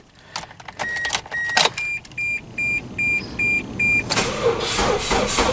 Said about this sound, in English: So let's get this guy fired back up, and let's go for a drive, shall we?